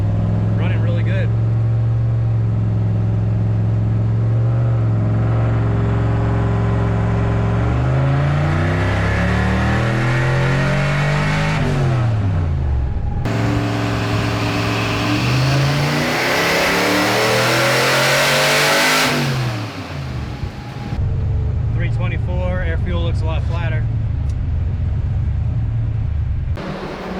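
A Foxbody Mustang running an On3 turbo kit revs in loud, close sweeps, its engine note climbing and falling repeatedly over sustained idle, with a sharp drop and a rough settle near the end.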